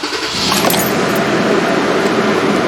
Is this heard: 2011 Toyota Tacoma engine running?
yes